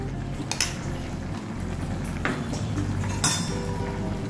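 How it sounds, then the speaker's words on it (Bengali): Greens in a pot being stirred together with a spoonful of mustard paste, a spoon scraping and clinking against the metal in a steady, close, moderately loud mixing sound with a few sharper clinks, no talking. "এবার এটা ঘেটে নেবো, মিশিয়ে নেবো এর সাথে"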